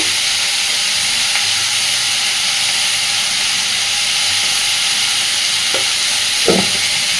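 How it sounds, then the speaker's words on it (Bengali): Potatoes and onions frying in a pan with salt, a steady broadband sizzle and hiss running throughout, close and fairly loud, with a couple of brief stirring scrapes near the end and no talk. "আলু পেঁয়াজটাকে ভেজে নেব।"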